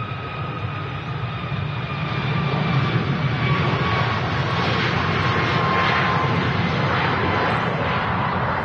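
A jet airliner, a Boeing 737 MAX, rolls for takeoff on runway 05L at Manchester Airport, a loud, sustained engine roar and whine that swells slightly as it builds thrust.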